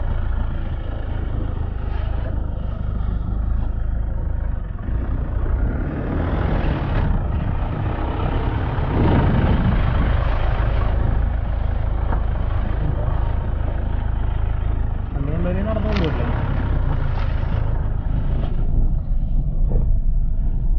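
A motorbike engine drones continuously while riding an off-road track through granite quarries near Malayattoor, loud and close with shifting revs, wind rumble and rough ground noise throughout.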